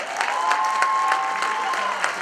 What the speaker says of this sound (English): Give Michael another round of applause